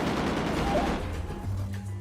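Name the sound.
gunfire in a video game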